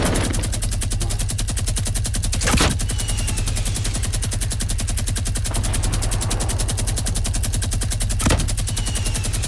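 Rapid automatic gunfire from a Fortnite battle royale match rattles steadily and loudly throughout, with two sharper, heavier shots standing out partway through and near the end; no one speaks.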